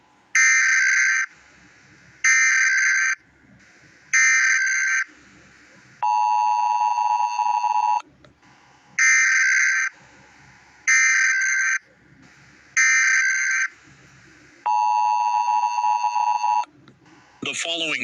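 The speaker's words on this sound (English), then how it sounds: "cable system shall transmit this emergency action notification message" A cable emergency action notification on a US Emergency Alert System broadcast sounds as loud electronic bursts that repeat in a regular on-off pattern, alternating with a steadier lower alert tone.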